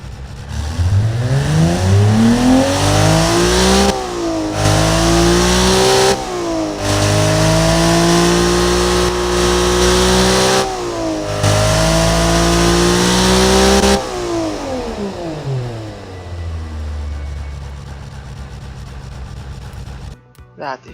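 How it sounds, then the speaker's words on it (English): A carbureted car engine, a stock unit being built into a tuner engine, revs hard in repeated rising and falling sweeps, loud and close, with brief dips between pulls before settling to a rough idle near the end. "That is just amazing for a carbureted engine."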